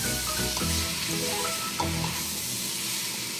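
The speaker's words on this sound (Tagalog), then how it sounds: "ilagay na natin yung ating tenga ng daga. At igisa pa natin ng konti pa." Wood ear mushrooms sauté in a pan for seafood pancit bihon, Philippine stir-fried noodles, with a constant close sizzle broken by rhythmic stirring scrapes and clatter, and no talking.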